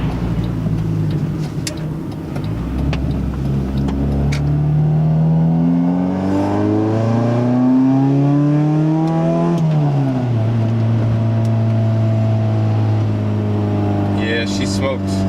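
A 1996 Honda Accord engine with a cold air intake revs up close and loud, its pitch climbing and sweeping back down in one long rev before settling to a lower idle-like drone.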